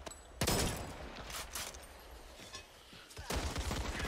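Gunfire in the zombie shooter Back 4 Blood, with loud bursts of rapid shots near the start and again at the end, and scattered shots between over a busy game background.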